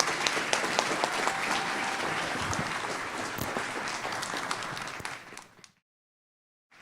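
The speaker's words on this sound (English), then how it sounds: "One more round of applause." An awards-ceremony crowd gives a loud, sustained round of applause with scattered sharp claps, which fades out toward the end and leaves silence.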